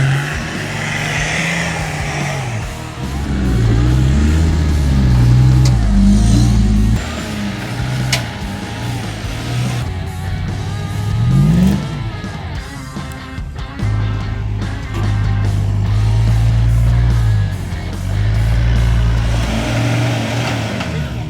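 Several 4x4 vehicles of an off-road overnight convoy drive through a boggy track one after another, engines droning and revving up loudly up close, with swells and dips as each vehicle passes.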